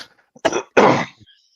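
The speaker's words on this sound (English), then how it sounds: "their coughing's got me coughing" Two short, harsh coughs in quick succession, close and loud, with a brief throaty rasp before and after in an otherwise quiet room.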